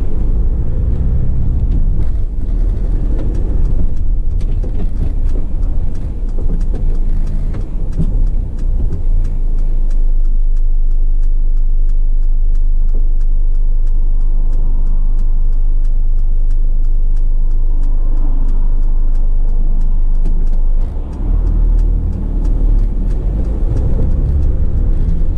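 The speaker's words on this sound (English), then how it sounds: "We'll take on a quick test drive, so we'll start her up." A 2019 Mercedes-Benz Sprinter 314 CDI van with a six-speed gearbox on a test drive gives a steady, heavy engine and road rumble from inside the cab. The drone stays loud throughout, with no voices.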